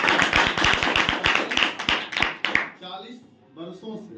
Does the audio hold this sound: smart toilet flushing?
no